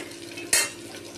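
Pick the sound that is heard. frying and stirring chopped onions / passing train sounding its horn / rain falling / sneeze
frying and stirring chopped onions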